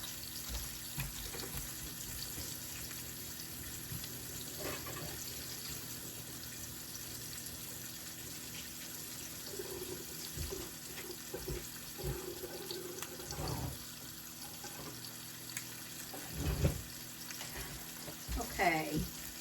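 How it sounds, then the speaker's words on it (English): Tap water runs steadily into a kitchen sink as hands are washed, a continuous hiss broken by splashes and clatters, with a person speaking briefly now and then. "Let me wash my hands off."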